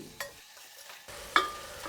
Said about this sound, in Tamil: தக்காளி சேர்த்துட்டு ஒரு ரெண்டு மூணு நிமிஷம் வதக்கி விட்டுக்கிட்டா போதுங்க